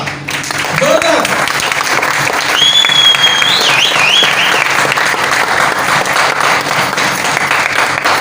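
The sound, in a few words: audience applause at a seminar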